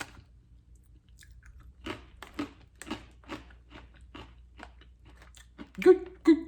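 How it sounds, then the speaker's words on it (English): A crunchy pretzel snack from an Egyptian snack box is chewed, giving repeated close, crisp crunches in an uneven rhythm, with louder bites near the end. "Good crunchy pretzel too."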